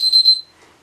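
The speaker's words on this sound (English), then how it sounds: "Sorry, that was my timer." A loud, high electronic timer alarm beeps in a short pulsing burst, then cuts off into near silence.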